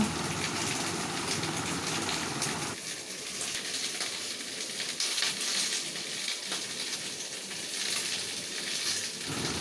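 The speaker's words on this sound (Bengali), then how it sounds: "এই মুসুর ডালটাকে এখন ভালো করে আমি ধুয়ে নেব।" Red lentils are washed in water, with a steady close rush of running water and sloshing that shifts in tone partway through, alone without talk.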